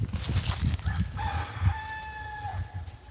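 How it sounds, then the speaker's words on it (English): A rooster crows loudly and close by, one long drawn-out call rising and falling over a low rumbling background. "Yeah, crazy rooster."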